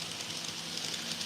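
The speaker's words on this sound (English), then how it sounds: "Electric locomotive," An electric locomotive in a Japanese train simulator game starts up, a steady hum and whine with soft rail rumble, brief and continuous with no talking.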